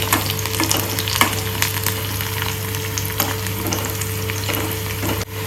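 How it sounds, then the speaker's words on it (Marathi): Food frying and being stirred in a pan gives off a steady, close sizzle with scattered scraping clicks from the spoon, and no talk over it. "तर आपल्याला हे फ्राय करून घ्यायचं चांगलं."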